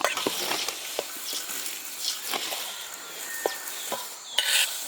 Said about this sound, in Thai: ต่อไปจะเป็นกระเทียมเจียวนะเจ้า